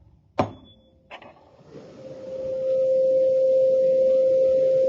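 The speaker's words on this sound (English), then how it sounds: "if you hit this fork, for example, it's not going to have an overtone, great overtone to it because it's designed not to" A tuning fork is struck with a sharp click, then rings as a single pure, steady tone that swells and holds, clear and alone with no talk.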